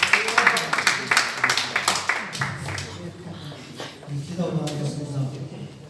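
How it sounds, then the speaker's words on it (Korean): Worshippers at a Korean prayer service burst into brisk, dense applause that tapers off after a couple of seconds, then a voice talks over the fading room. "우리 박수 한번 부탁해요"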